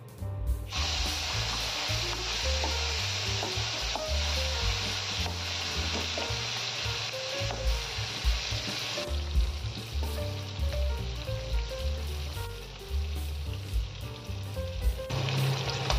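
Fish sizzles loudly in hot oil in a home kitchen, a continuous crackling fry with scattered pops and the occasional scrape of stirring, with no talk over it.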